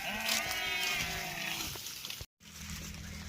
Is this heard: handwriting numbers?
no